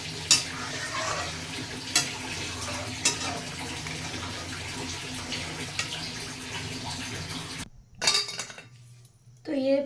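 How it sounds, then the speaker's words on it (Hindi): Hot milk being stirred in a pan on the stove for paneer malai khoya laddoo, a steady scraping swirl with a few sharper clinks, then a brief drop and a burst of louder stirring near the end. "गर्म दूध को भी चलाते रहेंगे।"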